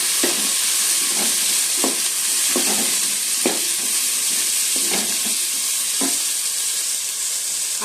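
Ridge gourd, brinjal and onion frying in a pan for a sambar, giving a steady close sizzle with periodic scrapes and stirs of a spoon, no voices.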